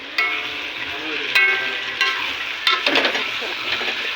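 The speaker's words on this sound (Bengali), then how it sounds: "আমাদের রসুন ভাজা হয়ে গেছে, এখন দিয়ে দেবো টমেটো" Tomatoes tipped into freshly fried garlic in a hot kadai for Kerala chicken, hissing in a steady sizzle with a few scraping stirs and clinks close by.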